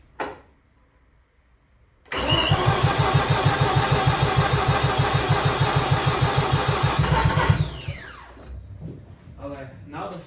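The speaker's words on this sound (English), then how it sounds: "Let's do one more crank, then we put back everything." A Mazda RX-8 rotary engine cranks after a fuel injector installation. After a short quiet stretch, the starter churns loudly in a fast, steady rhythm for about five seconds without catching, then winds down, and a voice follows.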